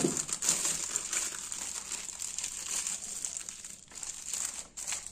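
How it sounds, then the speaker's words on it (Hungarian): Seed mix is put into a thin nylon bag, making crisp crinkling and rustling plastic sounds close by with short pauses between handlings and no speech. "Átteszem egy ilyen vetőzacskóba, ami igazából egy sima kis nylon zacskó."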